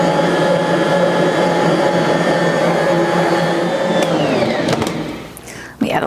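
An electric stand mixer kneads soft dinner roll dough on its lowest setting, a steady loud motor whir with a high whine that shifts pitch near the end as something clatters.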